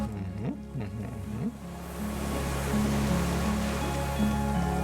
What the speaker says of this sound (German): Die entfernten Geräusche von Frachtschiffen, Hornsignale schallen über das Wasser.